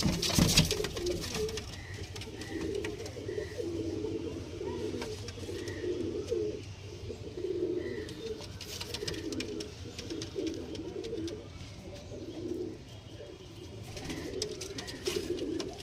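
Pet pigeons coo in a repeated series of soft, throaty low calls, fairly close and moderate in level, over a faint background with occasional light rustling.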